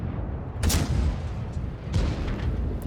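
A tank cannon in World of Tanks fires a muffled booming shot, followed a little over a second later by another dull thump, over a steady low engine rumble, with no one speaking.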